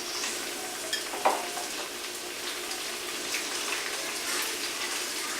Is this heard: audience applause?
no